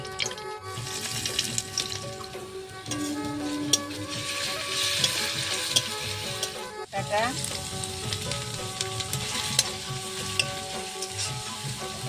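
Dried chili, bay leaf and whole cumin frying in hot oil for a chicken curry with coconut milk, giving a loud, continuous crackling sizzle up close, with a sudden surge of spitting partway through as more goes into the pan.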